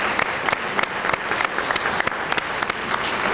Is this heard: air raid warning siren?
no